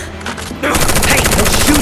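Rapid bursts of gunfire from a Final Fantasy VII Remake battle, starting quieter then jumping to a loud, sustained rattle of repeated shots that fills the moment, with brief voices mixed in.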